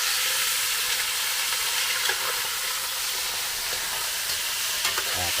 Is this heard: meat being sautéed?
yes